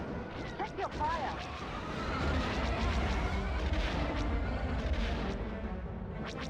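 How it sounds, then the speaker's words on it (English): Loud, continuous rumbling bomb explosions from bombers in Star Wars: Rogue Squadron, a dense booming roar that swells and holds over several seconds with scattered blaster-like zaps. "At least they make the bombing noise super loud."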